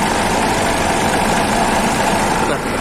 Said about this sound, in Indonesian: Hino RM ini suaranya halus banget ya